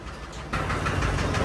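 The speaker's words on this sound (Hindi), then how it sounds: "ये वाला रोहित भाई का ट्रैक्टर है, महिंद्रा ही है ये वाला भी, लेकिन बहादुर घोड़ा का छोटा भाई है ये वाला।" A Mahindra tractor engine idles steadily on a wheat field, its low rumbling drone getting a little louder and fuller partway through and holding close and constant.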